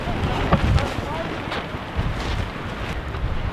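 Gusty wind at a campsite in Great Sand Dunes National Park, Colorado, buffets the microphone in low, rumbling bursts, with faint voices underneath.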